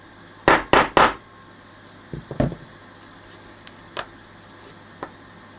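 Sharp metal hammer taps flatten a copper rivet during a repair of a Tom Evans Mastergroove SR mkIII preamp: three loud, close strikes in quick succession, then a cluster of lighter taps and a few isolated knocks.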